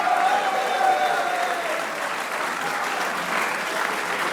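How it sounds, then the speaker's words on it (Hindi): Steady applause from an audience on a Pakistani cricket talk show, cheering a cricketer after a match against India. Dense, continuous clapping fills the whole stretch, with a faint voice-like tone briefly near the start. "आला कारकर्दगी पे शादाब के लिए भी तालियां होनी चाहिए।"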